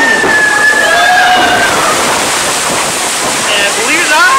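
The Splash Mountain log flume at Disneyland throws up a loud, continuous rush of splashing water, and excited voices are heard over it throughout.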